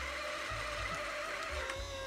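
JVC camcorder rewinding a videotape, a steady whirring mechanical hum with faint motor and tape noise, continuous and fairly quiet up close.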